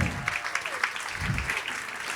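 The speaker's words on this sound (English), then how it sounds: "Give one more big, beautiful round of applause to Mary Jane Puffer." Audience applause at a student health celebration event, a steady crowd clapping fairly close, with a few low voices and murmurs mixed in.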